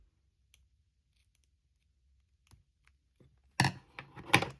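Scissors snipping a rubber loom band, a few faint clicks at first and then two sharp, close cuts near the end.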